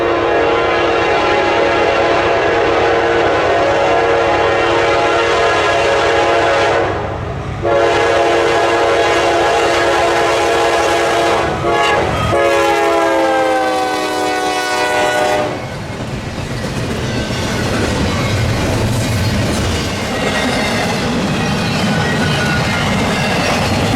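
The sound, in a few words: freight train passing with horn, partial Whiteface-9 locomotive 9762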